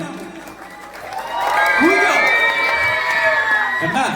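An audience at a comedy stage show breaks into a loud, sustained crowd hoot of jeers and shouts. It swells after a brief quieter start and holds steady, with a voice over the noise.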